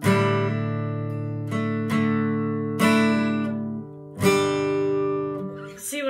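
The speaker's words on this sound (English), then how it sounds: "and a pull off sounds like this." Guitar pull-offs, a series of about four clear plucked notes each dropping to a lower ringing pitch, moderately loud and close, heard alone with a faint rustle at the end.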